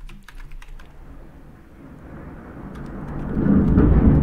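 Thunder from a rainstorm outside rolls in as a low rumble that swells and grows louder toward the end, after a few sharp keyboard clicks at the start.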